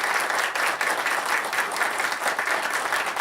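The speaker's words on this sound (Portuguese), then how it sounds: "Eu queria pedir uma salva de palmas para esse pessoal." An audience at a tax and accounting compliance panel gives the event staff a round of applause: steady, dense clapping from many hands that continues without a break and with no talk.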